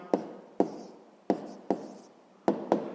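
A pen writing an answer during a sixth-grade math lesson, six short sharp scratchy strokes spaced irregularly, close and alone with no voice.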